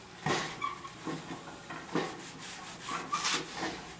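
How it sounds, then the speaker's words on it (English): A wet wash rag wipes down a sanded wooden board before painting, giving soft repeated rubbing swipes in an uneven rhythm, close and fairly quiet with no talk. "So you're going to get this wet wash rag, you're just going to wash all that off"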